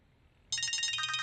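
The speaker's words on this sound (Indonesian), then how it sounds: "Teleponmu berdering." A mobile phone starts ringing partway through, a bright repeating electronic ringtone heard clearly in a quiet room, with no talk.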